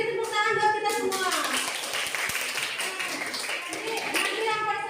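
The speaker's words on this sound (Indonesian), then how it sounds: "beri tepuk tangan buat kita semua" Students in a classroom clap together after group presentations, a brisk burst of many hands with people talking and calling out over the clapping throughout.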